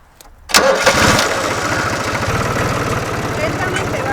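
A farm tractor engine cranks and fires, then settles into a steady rumbling idle as it starts to creep slowly forward to pull up a fallen fence, loud and close, with voices talking over it.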